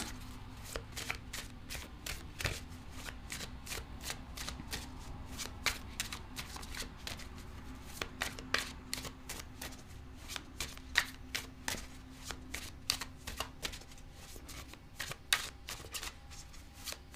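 Tarot cards being shuffled by hand in quiet close-up, a run of crisp riffling and slapping bursts repeating irregularly, soft and near with no voice over them.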